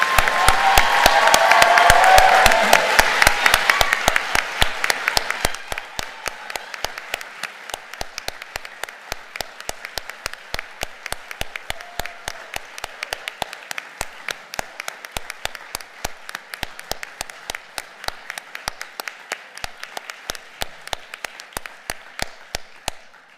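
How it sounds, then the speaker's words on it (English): Applause at a nursing pinning ceremony, a dense burst of clapping from the crowd for the first five seconds that thins into scattered, steady claps which continue to the end. "I think they deserve one more round of applause here"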